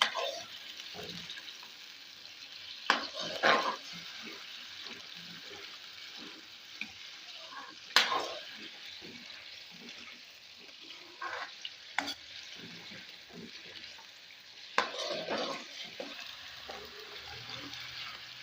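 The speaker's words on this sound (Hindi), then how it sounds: "अब मैं इसमें प्याज का पेस्ट शामिल करूँगी। मैं इसको हल्का ब्राउन कर लूँगी।" Onion paste fries in a pan while a spoon stirs it. A soft continuous sizzle runs throughout, broken by scraping strokes and occasional louder clatters of the spoon against the pan, heard close and without talk.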